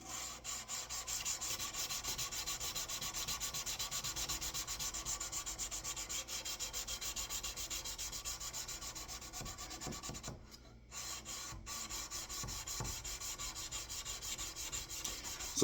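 Steady abrasive rubbing of sandpaper on a knife blade being refinished through progressively finer grits, a continuous close scratchy stroking with a brief pause near the end, no voices.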